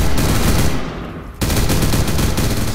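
Rapid automatic gunfire rattles loud and close in the Roblox shooter Flashpoint, a sustained burst that briefly drops away then resumes with equal intensity.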